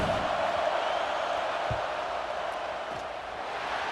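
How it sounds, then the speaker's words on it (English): Football stadium crowd roaring during a field goal attempt in an Ohio State versus Miami Hurricanes game, a broad sustained distant wall of crowd noise with a few faint thumps and no clear speech. "This crowd trying to do its part to get inside the kicker's head."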